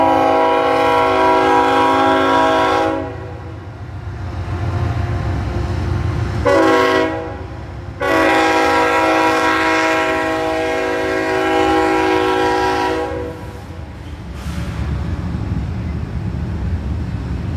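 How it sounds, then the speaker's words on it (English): Union Pacific manifest freight train passing nearby, its horn blaring in long loud blasts with short gaps over a steady heavy rumble of wheels and cars. "Make sure this train has to go fast."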